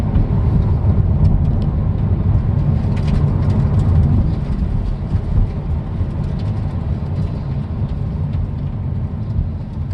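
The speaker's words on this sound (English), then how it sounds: "as long as I can hear that exhaust over the road noise, I'm content." A 2019 Hyundai Veloster N's exhaust drones steadily while driving, blended with loud, constant road noise and a low engine rumble throughout.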